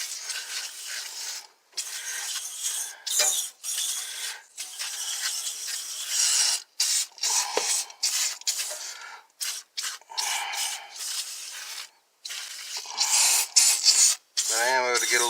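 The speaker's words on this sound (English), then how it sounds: "So now I'm on the other side, cleaning the other side of the coil" Brushing and spraying cleaner on an indoor air handler's evaporator coil makes bursts of hissing, scratchy rubbing separated by short pauses, close up, with a voice speaking over parts of it.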